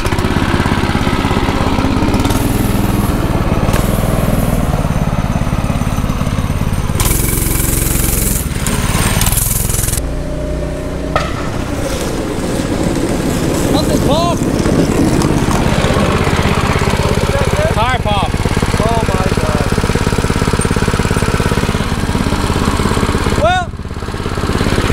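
A homemade go-kart engine sputters through starting attempts, then settles into a loud, buzzy small-engine drone that runs steadily, with people talking and shouting over it.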